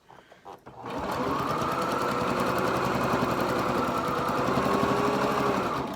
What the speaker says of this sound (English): then we're going to do another very narrow stitch